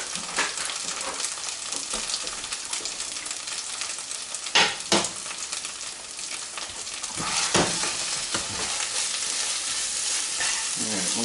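Food frying in a frying pan with vegetable oil over medium-low heat, a steady close sizzle with occasional louder crackles and stirring scrapes throughout, no voices.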